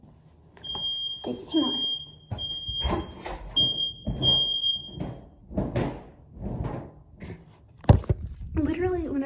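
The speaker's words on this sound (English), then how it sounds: "whenever I shower and if I leave the door open afterwards, the steam comes out of the shower and it sets the fire alarm off" Dorm smoke alarm set off by shower steam, giving a steady high-pitched tone in repeated long beeps while people talk close by, followed by a door thump near the end.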